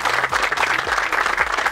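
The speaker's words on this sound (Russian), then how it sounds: "ваши аплодисменты." Audience applause at a fishing tournament award ceremony, a steady dense wash of clapping hands sustained throughout, with low hum and faint background sounds underneath.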